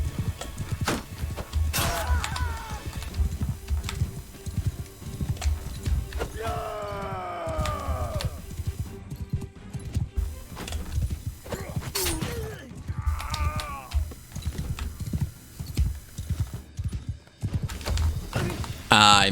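Horses in Mount & Blade II: Bannerlord clatter along with rapid hoofbeats, whinnying sharply a few times amid battle noise, while a player talks over the action.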